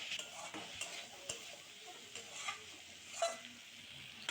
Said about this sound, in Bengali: এই যে নাড়াচাড়া দিয়ে এখন আমি নামাই নিচ্ছি পাট শাকটা